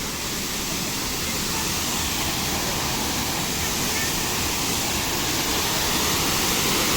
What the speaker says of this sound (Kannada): ನೋಡ್ರಿ ಇಲ್ಲಿ ಹೆಂಗೆ ಬೀಳ್ತಿದ್ದಾವೆ ನೀರು.